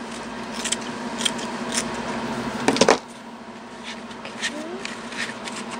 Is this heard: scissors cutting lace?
yes